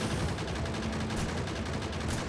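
Dense, continuous rapid gunfire from turret defenses firing at aliens in Factorio: Space Exploration, loud and close, a sustained rattling burst with no talking over it.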